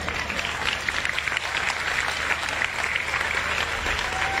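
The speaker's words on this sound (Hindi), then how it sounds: "आप ताली बजाते हो" Applause from a seated audience at a spiritual discourse, loud and continuous dense clapping with a faint crowd murmur, holding steady throughout.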